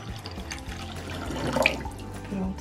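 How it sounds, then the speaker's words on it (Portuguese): Water is poured into a bowl indoors, a short splashing trickle building to a brief peak, with talking around it. "A gente pegou mais água aqui pra gente colocar na vasilha"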